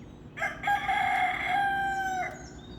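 A backyard rooster crows once, close and loud, one long strained cock-a-doodle-doo held for about two seconds with no talk over it.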